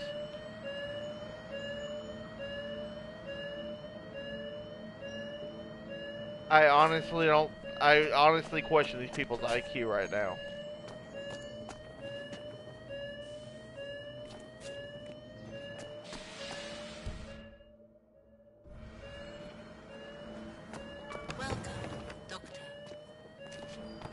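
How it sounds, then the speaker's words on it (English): A fire alarm in the Hitman video game sounds steady, repeating electronic tones throughout, with people talking over it and louder bursts of voices midway. "It's a fire alarm."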